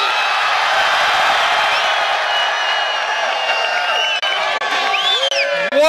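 A large crowd at a Bernie Sanders campaign rally in Brooklyn cheers and whoops in a loud, sustained roar that thins slightly toward the end, with scattered shouts rising out of the noise.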